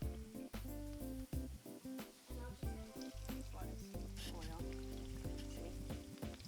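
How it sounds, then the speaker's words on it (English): Crispy potato tacos sizzle and crackle in hot oil with busy popping, while steady music plays underneath. "We have started frying our crispy potato tacos"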